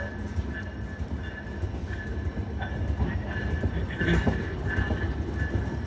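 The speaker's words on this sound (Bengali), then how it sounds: "বেনাপোল থেকে ছেড়ে আসা ঢাকাগামী বেনাপোল এক্সপ্রেস ট্রেনটি কমলাপুর রেলওয়ে স্টেশনের আট নং প্ল্যাটফর্মে প্রবেশ করবে" The Benapole Express runs with a steady low rumble and rolling wheel noise, faint rhythmic clacks and a thin metallic squeal threading through, heard from close by.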